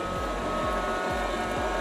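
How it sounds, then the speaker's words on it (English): A Shark ION R76 robot vacuum runs over lumpy indoor carpet, giving a steady close whirring hum with a faint rhythmic pulsing, heard on its own. "So here's the Shark ION. This is the R76 robot vacuum."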